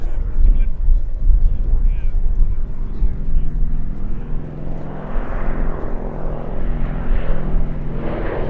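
Lockheed Electra Junior propeller aircraft flying at the Sywell airshow, a steady droning engine roar building and shifting as it passes, with a commentator talking over it throughout.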